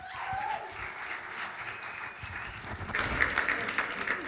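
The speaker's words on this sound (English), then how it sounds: "let's give him a big round of applause" A church congregation applauds a guest speaker as he is welcomed, a moderate broadband patter of clapping that builds and grows louder toward the end, with a few faint vocal sounds mixed in.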